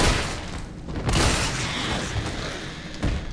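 Shotgun blasts fired at armored Hunter creatures in the Resident Evil 3 (2020) remake, loud booming reports over dense game noise, with a few heavy thuds standing out across a few seconds.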